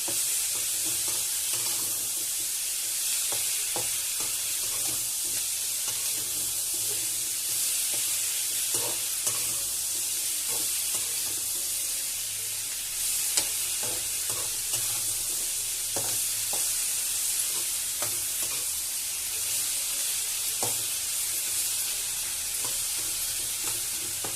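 Lightly shaved ridge gourd peel sautés in a pan, a continuous hissing sizzle running unbroken for a long stretch, dotted with frequent soft clicks and scrapes of a spatula stirring, close by and without voices.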